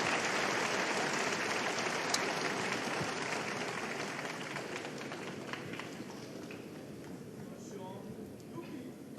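Spectators at a snooker final at the Shanghai Masters break into warm applause after a plant is potted. The clapping is dense at first, then gradually thins and fades while a commentator talks.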